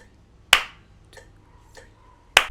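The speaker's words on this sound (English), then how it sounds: "One of you counts to 3 and claps on the 1." Two sharp, close hand claps land about two seconds apart and mark the start of a counted 3/4 polymeter phrase. Softer ticks fall evenly between them.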